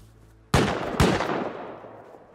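Two sharp, loud gunshots about half a second apart ring out in an online survival shooter during a clan raid, each with a long reverberant tail decaying afterward.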